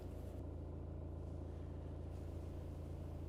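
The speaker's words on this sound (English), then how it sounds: "And you can rev that up again and see it moving." Engine of a 2010 BMW idling and revving gently, a steady low rumble with a slight swell in pitch, close and continuous throughout.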